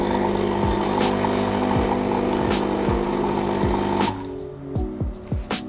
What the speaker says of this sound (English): this is also a lot noisier, the Sage, because it's got a vibration pump